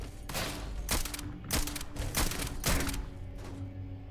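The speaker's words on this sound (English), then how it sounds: "What are you shooting at? Turret?" Faint automated turret fire in Starfield comes as several short rattling bursts, spaced roughly half a second apart, against a quiet background.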